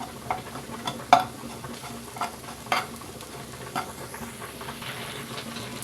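Onion-chili paste with prawns and egg is stirred in a hot pan, giving a soft continuous sizzle under scattered sharp scrapes and taps of the spoon, about half a dozen distinct strokes.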